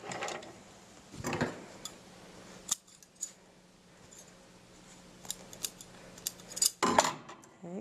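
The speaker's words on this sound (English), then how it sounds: "we're going to take it out and trim all of our threads" Scissors snip loose sewing threads from fabric after topstitching, a few quick crisp cuts close by with quiet pauses between them.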